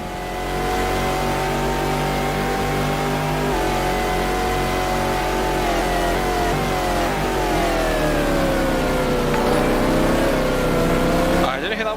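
Racing car in a 2000 Le Mans 24 Hours qualifying session of a racing video game: steady loud engine drone with rising and falling pitch as the car revs and downshifts into third, a voice talking over it throughout.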